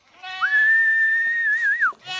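Farm goats bleat up close, loud and drawn out, with one long high, steady cry between shorter bleats.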